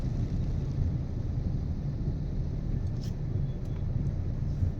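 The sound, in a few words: road traffic on a rainy day in Pune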